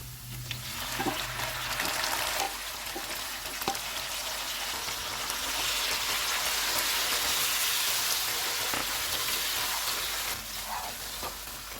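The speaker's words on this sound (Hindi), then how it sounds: "प्याज फ्राई हो गए हैं, इसमें तैयार किया हुआ बीफ डालेंगे।" Pre-cooked beef fries in a pan of golden fried onions, a loud dense sizzle that continues throughout, with occasional stirring clinks nearby.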